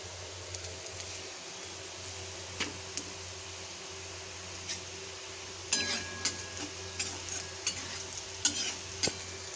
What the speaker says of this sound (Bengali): আজকে আমি সকালে আলু ভাজা আর রুটি করছি